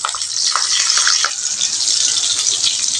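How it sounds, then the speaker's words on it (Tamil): Curry leaves fry in hot oil for drumstick kara kuzhambu, a loud, close, continuous crackling hiss with a few brief rattles and no speech. "கருவேப்பிலை இது நல்லா வதங்கி வருதுங்க"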